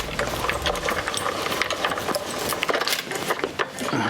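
A Sizzix die-cutting machine feeding a card through, giving a continuous close, loud mechanical grinding and ratcheting with a dense rhythmic clatter for the whole stretch.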